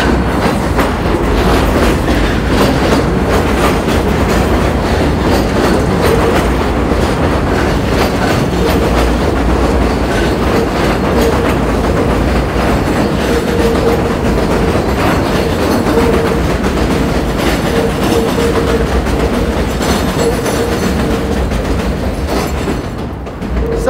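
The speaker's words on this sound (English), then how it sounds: "Sorry about that, guys, that was a train." A train passes close by, loud and sustained, with rhythmic clickety-clack of wheels on rails and a brief squeal, rumbling steadily throughout.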